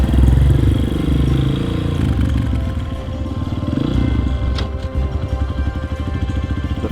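A dirt bike engine revving under throttle, loud and close, a rough roaring drone that rises and falls, settling into a rapid, steady putter.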